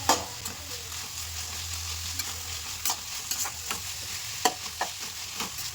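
Chopped capsicum and onion fry in a pan under a steady sizzle, stirred with a spoon whose scrapes and clinks come irregularly, sharper and more frequent in the second half, close up with no talking.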